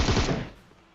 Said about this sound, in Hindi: बस मैं गोली चलाता गया ढीटो की तरफ और 2 बंदे एक ही स्प्रे में निपट गए